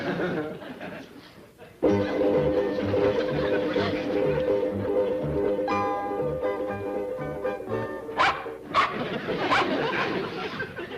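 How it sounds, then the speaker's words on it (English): A small dog whimpers and barks in a scene from a classic western TV comedy, sharp yaps near the end over steady background music, with people talking. "Mind your tongue, little dog."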